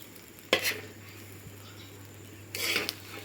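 Mustard seeds are stirred in a pan to press out oil, producing two bursts of gritty scraping and rattling over a steady low hum.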